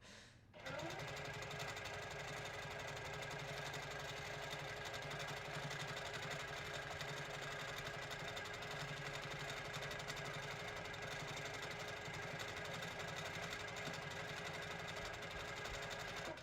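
A sewing machine quilting fabric runs in a steady, fast mechanical hum that starts abruptly after a brief moment and continues without a break, fairly close and even in level.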